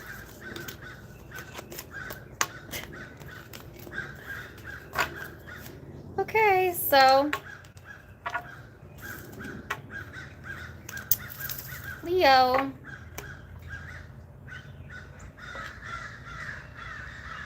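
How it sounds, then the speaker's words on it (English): Two bouts of raucous crow cawing, a few seconds apart, ring out over a person talking and light rustling and handling noises. "Oh, the crows are back."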